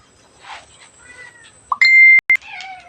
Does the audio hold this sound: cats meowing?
yes